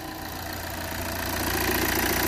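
An Audi A6 C6 2.0 TDI diesel engine idles steadily just after starting, a close, continuous rattling drone with no talking.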